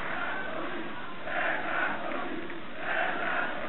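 Football stadium crowd at an Újpest versus Videoton match chanting in rising waves, distant and muffled, swelling twice in rhythmic surges over a steady roar.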